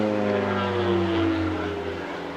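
A twin-tailed cargo aircraft trailing smoke makes a low pass at the Clacton Airshow, a loud, steady propeller drone with a strong hum that fades slightly as it passes.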